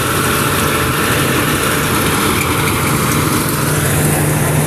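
A rice mill machine's engine runs steadily through the whole stretch, a loud, continuous mechanical drone with a dense rattling hum and no voices over it.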